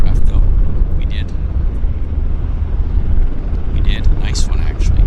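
A jet aircraft rumbles loud and steady while taking off at Vancouver YVR airport, its broad roar filling the whole stretch with faint voices briefly audible over it.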